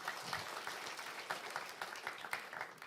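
A church congregation claps together, a brief burst of steady, fairly soft applause with scattered individual claps standing out.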